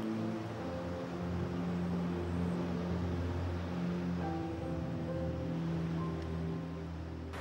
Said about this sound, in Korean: 화면을 장악하는 파도의 일렁임